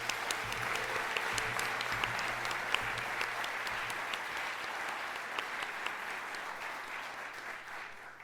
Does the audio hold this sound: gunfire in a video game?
no